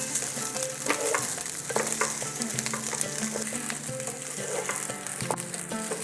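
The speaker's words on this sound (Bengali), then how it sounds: "ধীরে ধীরে চালটা ভাজতে ভাজতে দেখুন চালটা বেশ একদম স্বচ্ছ হয়ে আসছে" Rice sizzles steadily as it fries in a pan for a one-pot dinner, with repeated scraping stirs breaking through a continuous crackling hiss, close and fairly loud.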